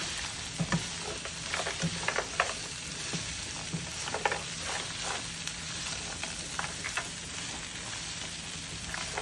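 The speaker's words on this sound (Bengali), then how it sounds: "আমি অয়েল দিয়ে সতে করে নিচ্ছি" Chicken and cashew nuts sauté in hot oil with a steady, soft sizzle, broken now and then by light stirring scrapes and pops.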